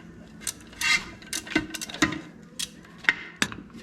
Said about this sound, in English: I'm gonna get that bolt out. I think that's a 13 millimeter.